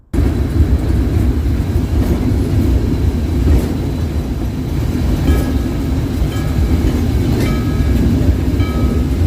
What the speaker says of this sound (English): we also paid for the extra little miniature train ride, which was quite exciting as well